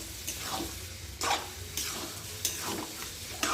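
Mutton is stir-fried for mutton kosha, with a spatula scraping and stirring in the pot every second or so over a low, steady sizzle. No one speaks.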